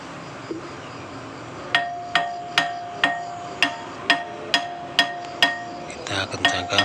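A diesel engine's drum pulley is struck with a wrench while being tightened: about a dozen sharp metallic clinks in an even rhythm, each ringing briefly, close up, with a louder rattling clatter at the end.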